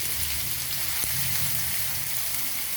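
Chopped onions frying in hot oil with cumin seeds, a steady close sizzle and hiss with no break and no voices.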